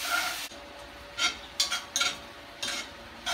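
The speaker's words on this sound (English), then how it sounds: "Hear the sizzle of that cast." Tomato paste and vegetables sizzle in a cast iron pot for a cioppino, with an initial burst of frying hiss followed by repeated bursts of stirring and scraping, close and fairly quiet.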